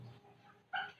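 A dog barks once, a single short and fairly faint yap near the end after a quiet pause, with no voices.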